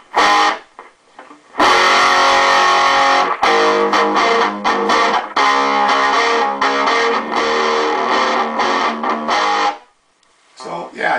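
Electric guitar on its bridge humbucker through a cigar box amp, with a bright, cutting tone, strummed chords and quick picked notes, loud and close, with brief pauses between phrases.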